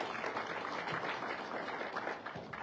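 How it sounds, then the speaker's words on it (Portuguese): Audience applause at a live Angolan talk event, steady dense clapping from the crowd throughout, fairly loud and sustained. "uma forte salva de palmas."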